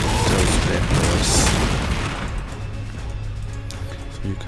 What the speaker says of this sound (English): A twin-linked autocannon. You will just shoot into those bad boys.